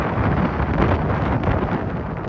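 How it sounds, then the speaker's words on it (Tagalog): Strong coastal wind on the shore at Baclayon, Bohol, roars and buffets the microphone in a dense, unbroken rush that stays loud for the whole stretch. "Dama naman ang malakas na hampas ng hangin sa Baclayon, Bohol"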